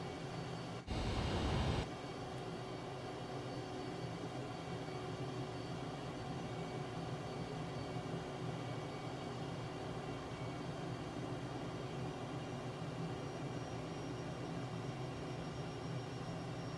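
Steady airplane engine drone from flight in Microsoft Flight Simulator 2024 on PS5 Pro, a constant broadband hum held throughout, with a brief louder burst near the start.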